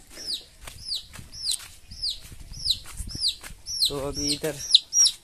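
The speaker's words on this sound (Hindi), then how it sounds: "एक मुर्गी का बच्चे च्यों च्यों कर रहा है" Chick peeping near a home in the morning: repeated high descending cheeps in a steady run, with someone speaking over part of it and some low clucking toward the end.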